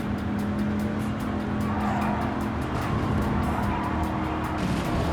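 A Dodge Viper GTS race car tears around a Gran Turismo 7 circuit, its engine roaring loudly and continuously while tires squeal and skid through corners, with no talk over it.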